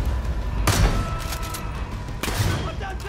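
Gunfire in the video game Far Cry 5, two sharp booming shots about a second and a half apart, each ringing out with a rumbling tail over a busy game background.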